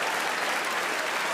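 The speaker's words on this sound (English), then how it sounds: "Don't you dare applaud." A comedy club crowd applauding hard, a thick unbroken wash of many hands clapping, loud and close for a brief moment with no voice on top.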